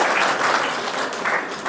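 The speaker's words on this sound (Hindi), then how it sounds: "ताली बजाओ।" An audience at a spiritual class in an ashram breaks into applause, a close, dense and even patter of many hands clapping that stays steady throughout.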